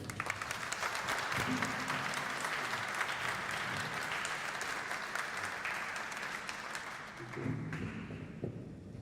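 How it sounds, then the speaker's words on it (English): Applause at a high school NJROTC change of command ceremony, an audience clapping steadily and fairly loudly before tapering off, with a few low thumps. "Round of applause for the family."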